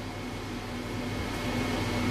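A mixer grinder grinds cooking ingredients with a steady, faint motor hum and whir that holds evenly throughout and builds slightly toward the end.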